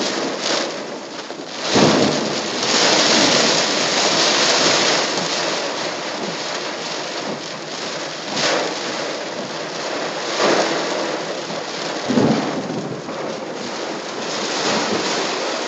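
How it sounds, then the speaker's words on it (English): A thunderstorm in Doral, Florida, with loud, heavy rain roaring steadily throughout, broken by several deep rumbling thunder bursts, alone with no voices. "We are in the middle of a thunderstorm."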